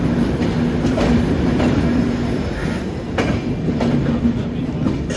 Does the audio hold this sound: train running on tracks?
yes